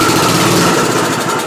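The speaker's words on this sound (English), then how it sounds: "It did fire over, and we got a good engine, which is incredible." An antique Troy-Bilt rototiller engine with a dirty carburetor runs at a fast, loud, continuous idle, a steady close chugging hum with rapid firing pulses.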